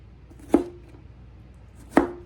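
A knife chopping garden cucumbers on a cutting board, two sharp, close chops about a second and a half apart with quiet in between.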